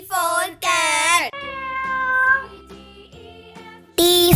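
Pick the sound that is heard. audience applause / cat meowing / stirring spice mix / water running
cat meowing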